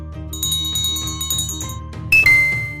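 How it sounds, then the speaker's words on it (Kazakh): A bell rings several times in bright, clear metallic strikes, each note hanging and decaying before the next, ending with a louder, higher ring. "Қоңырау."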